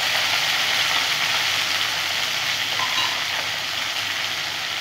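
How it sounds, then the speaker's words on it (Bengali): Potatoes fry in a pan with a steady, moderately loud sizzle, an even hiss that holds throughout without any voices. "তখন আলুগুলো আমি ভেজে নেব।"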